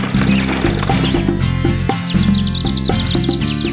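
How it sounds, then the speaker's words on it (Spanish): A storybook sound effect of a horse neighing loudly alongside hoof clip-clops, a short close whinny over rhythmic hoofbeats. "tenía un caballo muy perezoso que siempre evadía el trabajo"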